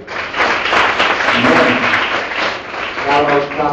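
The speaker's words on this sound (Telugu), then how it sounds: "ఒకసారి గట్టిగా చప్పట్లు కొట్టండి." An audience at a one-day youth retreat in a Baptist church claps loudly. The dense, steady applause fills the whole stretch with no break, and faint voices can be heard underneath it.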